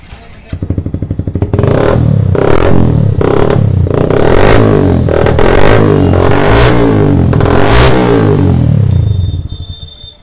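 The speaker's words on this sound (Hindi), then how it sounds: "अभी हम लोग बाइक को स्टार्ट करेंगे, बाइक हम लोग का स्टार्ट हो जाएगा।" A Yamaha R15 V2 motorcycle cranks and fires up, then its engine revs repeatedly in loud, close bursts with a steady idle between throttle blips, cutting off near the end.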